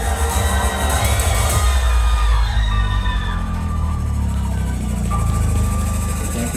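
A crowd cheers and whoops at an outdoor folk song competition during the Nagaland World Music Festival, a loud, sustained roar of voices over deep rumbling low-end noise throughout.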